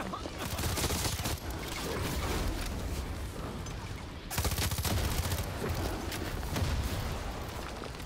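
Sustained gunfire in Far Cry 6, dense rapid bursts continuing for several seconds with a brief lull before a second loud volley, no talking.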